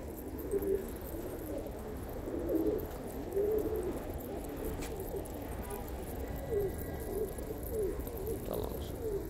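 Pigeons on a rooftop coo softly and repeatedly, low rolling calls that come in a loose rhythm against quiet outdoor background noise, with a faint chirp or two.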